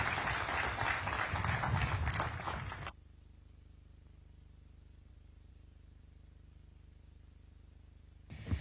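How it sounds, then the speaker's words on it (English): Applause for Kenyan President Dr. William Samoei Ruto at a public event, a loud burst of crowd clapping lasting about three seconds, then cutting off abruptly to quiet, with a brief faint return at the very end. "Another round of applause for His Excellency, the President of this great nation, Dr. William Samoei Ruto."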